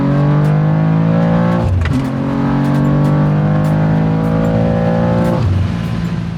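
A BMW M2 on stock turbos running a roughly 745 horsepower tune pulls hard from 60 to 130 mph, its engine note climbing loudly and steadily, with two brief dips at gear shifts and no talking.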